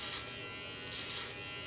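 Brio Beardscape electric beard trimmer cutting close along the sideburns, a steady quiet buzzing hum that swells slightly as the blade moves through the hair, with no voices.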